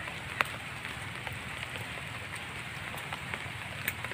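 Steady rain patters on the surfaces outdoors, a soft even hiss with scattered drops ticking through it. No voices are heard.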